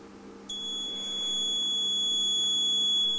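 A high, piercing electronic alarm tone from an anti-sleep device for drowsy drivers switches on and holds steadily, shrill and continuous against a faint background hum.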